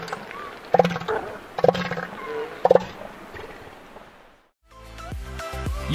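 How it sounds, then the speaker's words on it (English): A big cat, a lion or tiger, lets out a series of deep, throaty roars and grunts in repeated pulses, loud and close, fading to near silence before a different rumbling sound starts. "You are sure to hear the lion's or a tiger's roar."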